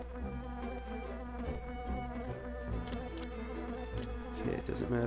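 Bees buzzing in The Grinch on the Dreamcast, a constant insect drone mixed with background game music and scattered game effects, holding at an even level throughout.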